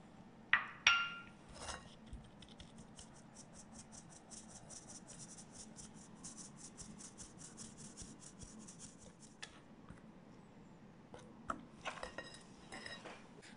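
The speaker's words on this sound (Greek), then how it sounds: "τώρα θα κοσκινήσω το αλεύρι" Flour and baking powder sifted through a sieve: a few sharp metallic clinks at first, then a long, quiet, rhythmic rasping as the sieve is shaken, ending in a few more taps.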